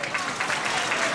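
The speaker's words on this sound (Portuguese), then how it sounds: "eu peço uma grande salva de palmas" Brief burst of audience applause at a Janeiras folk singing gathering in Amarante, dense and loud with no pause.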